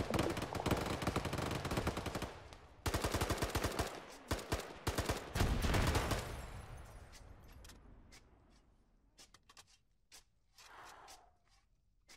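Machine gun fire in the video game Arma 3, loud rapid bursts of automatic shots packed into the first six seconds, then thinning into scattered distant shots and sharp cracks as the firing dies down.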